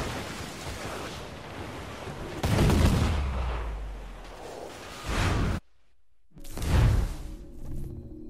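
Cannon fire striking a ship in the pirate naval game Assassin's Creed IV Black Flag: heavy booming blasts and rushing impacts in several loud bursts, one dropping briefly to near silence before a final crash.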